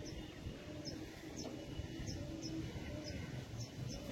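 Pigeons kept for sale coo softly in repeated low, rolling calls. They are faint and somewhat distant against quiet background noise, with occasional light chirps.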